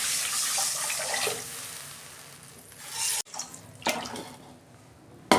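Water is poured into a hot kadai that has just held fried drumstick stalks, making a hissing sizzle that fades and is followed by splashing and a few clatters.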